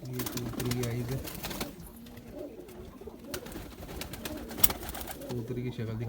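Zeera pigeons kept by a home breeder coo in low, repeated rolling phrases, strongest at the start and again near the end, with a sharp click partway through and a faint voice in the background.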